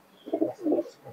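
A Teddy or Malbai pigeon gives two close, soft throaty coos and then a fainter third, with no talking.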